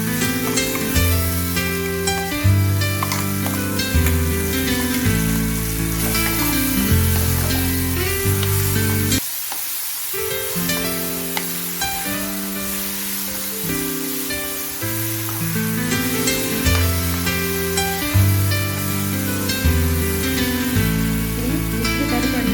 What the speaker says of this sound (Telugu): తాలింపు వేగిన తర్వాత పచ్చడంతా తాలింపులో కలుపుకోవాలి.